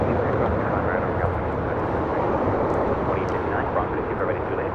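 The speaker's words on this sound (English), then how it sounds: "That was the flight heading to Cabo, the Delta A321 Neo" A Delta A321neo jet airliner at LAX roars in a dense, continuous engine wash that holds steady and loud from start to finish.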